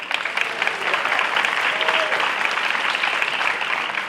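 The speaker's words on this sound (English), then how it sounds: "we'll pass on your applause to him" Steady applause from a sizable crowd, a continuous dense patter of clapping that holds at an even level throughout.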